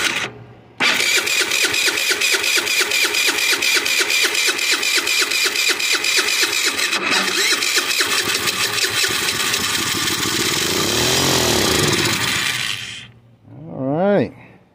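An abandoned scooter engine, given a squirt of carb and choke cleaner, fires up and runs loud and close at a steady buzzing idle, revs rising and falling near the end before cutting out, with a brief voice.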